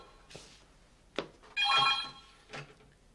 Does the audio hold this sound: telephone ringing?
yes